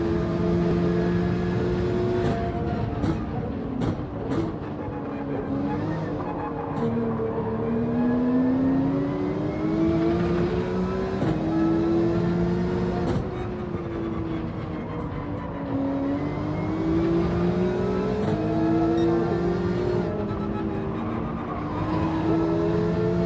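A loud, continuous GT3 race car engine in Gran Turismo 7 at Laguna Seca drones and whines, its pitch rising and falling through gear changes, with other cars audible close by.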